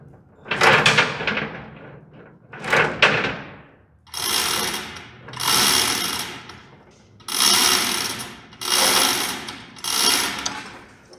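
Equipment chain being tightened with latching tensioners: a series of loud, regular ratcheting bursts, two shorter clicks followed by five longer rasping pulls at an even rhythm, close and alone.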